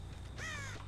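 A crow caws once in a video game set on a farm, a single sharp harsh call standing out clearly over a low steady background drone.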